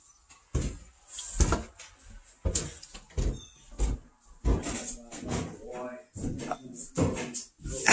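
A door in a country house swung open and shut several times, a series of close knocks, creaks and thuds in irregular bursts, with voices in between.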